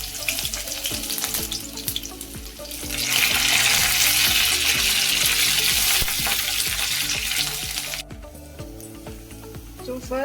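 Garlic and ginger fry in a pan for a fish curry, giving a steady, close sizzle that swells loudly midway as the ingredients go in and then eases off, with stirring noises and a voice talking underneath.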